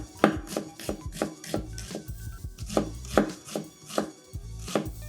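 A knife chops onions on a cutting board in a quick, uneven series of close, crisp knocks, with soft background music under them.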